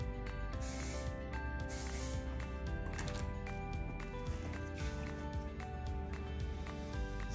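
Short, repeated hisses of an aerosol hairspray burst out in quick succession, faint and close, with a steady hum in the background.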